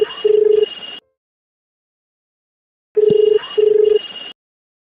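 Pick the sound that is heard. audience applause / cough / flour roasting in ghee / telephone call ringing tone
telephone call ringing tone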